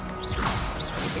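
A Confringo spell cast in a wizard video game: a short burst of crackling, whooshing energy with two brief rising-falling zaps, close and fairly loud against steady game ambience, with no talking.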